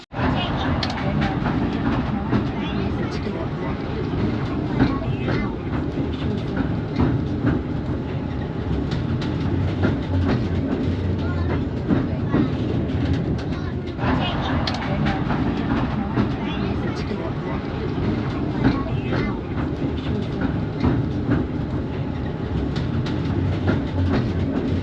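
Railway tram running on rails along the world's longest pleasure pier, a continuous rumbling rattle with faint clicks from the special wheels, with someone talking over it throughout.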